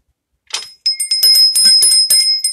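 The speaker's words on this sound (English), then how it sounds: "Lakshmi bells. They sound really beautiful." Small brass Lakshmi bells from Nepal, rung repeatedly in a rapid series of bright, sustained metallic chimes with a clear high tone, close and fairly loud after a brief silence.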